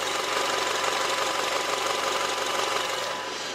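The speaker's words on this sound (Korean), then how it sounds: "엔진 소음을 먼저 들려드리면은," A 2.4-litre gasoline SUV engine idles steadily and evenly, with a soft mechanical knocking texture and a low hum, continuous and fairly loud throughout, with no voices.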